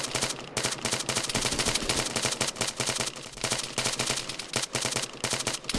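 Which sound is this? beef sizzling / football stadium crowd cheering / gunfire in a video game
gunfire in a video game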